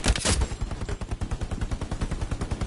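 Rapid machine gun fire in the World War II shooter Hell Let Loose, a steady stream of close, loud bursts with an even rhythm of about eight rounds per second, heavier blasts at the start.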